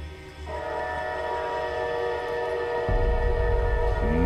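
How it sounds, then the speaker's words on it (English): Ghostly train sounds in the video game Borderlands 3: a loud, sustained horn-like whistle with layered tones holding steady throughout, joined near the end by a deep rumbling rise, with no talking. "Ghostly train noises."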